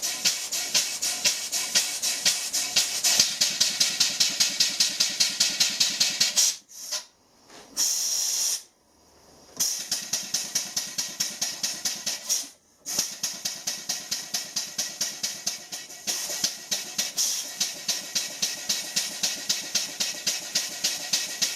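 A small double-acting model marine steam engine with light load chuffs rapidly and steadily with a constant hiss, briefly cutting out a few times before resuming its quick rhythmic beat.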